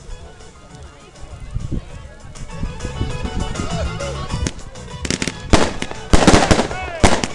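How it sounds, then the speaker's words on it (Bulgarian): Chavgi fired during the Zagovezni festival in the Bulgarian village of Bryast: steady outdoor crowd chatter, then several loud, sharp bursts and crackling blasts toward the end. "за да дадем възможност на гостите да изстрелят своите чавги"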